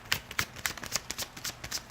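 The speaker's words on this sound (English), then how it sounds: "one more shuffle and I'm going to pull off the top" A tarot card deck is shuffled close up in a fast run of crisp, rhythmic riffling flicks.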